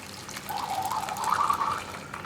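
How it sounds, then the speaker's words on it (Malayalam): Boiled chickpeas tipped into a pan of kadala curry along with their cooking water, a soft steady pour and splash lasting a couple of seconds, close and quiet, with no talk. "കടല വേവിച്ച വെള്ളത്തോടു കൂടി ചേർക്കാം."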